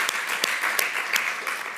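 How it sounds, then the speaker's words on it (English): An audience at a university entrepreneurship competition final claps in warm, sustained applause, a dense, even patter of many hands with a few sharper claps standing out. "let's just give them a round of applause."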